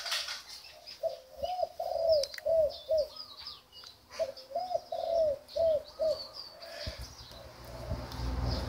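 Spotted doves cooing in repeated phrases of deep, rounded notes, two clear sequences close by, with faint chirps from other birds and some wing flutter in the background.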